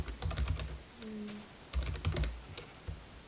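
Rapid clattering keystrokes on a computer keyboard while writing in a Minecraft book and quill, bursts of close clicky typing with a short pause and a faint tone between them.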